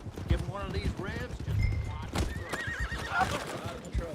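A horse in the video game Red Dead Redemption 2 whinnies in several shrill, wavering bursts, close and fairly loud, over busy background game sounds and murmuring voices.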